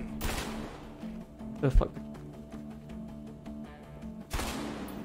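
Gunfire in the video game A Way Out: scattered shots, then a rapid run of sharp cracks, with further bursts mixed under frequent talking voices.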